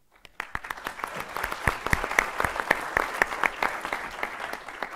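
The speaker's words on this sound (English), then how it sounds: "if we're applauding for Duke" An audience at a public science lecture on dark energy breaks into applause, individual claps rising quickly from silence into a sustained, lively round close by.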